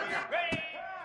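A football stadium crowd at a Georgia versus Missouri game roars on third down, a dense, loud wall of cheering and yelling with rising voices and a sharp accent near the middle, under no commentary.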